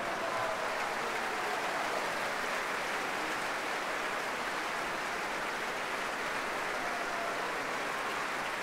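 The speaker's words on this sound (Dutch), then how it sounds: "dat gejuich betrof een worp van het boeket van de dirigent naar iemand in de zaal" Sustained applause and cheering from a concert hall audience at a Beethoven symphony performance as the conductor tosses his bouquet into the crowd, a steady, dense wash of clapping heard from a distance.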